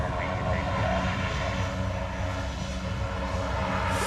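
Boeing 747 jet departing from Honolulu airport, a loud steady broadband engine roar that holds constant throughout, close and continuous.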